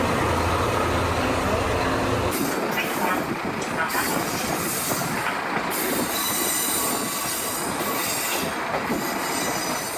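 Train rolling along the Nemuro Main Line tracks between Furano and Takikawa, with loud wheel squeal and rumbling clatter throughout, heard from inside the carriage.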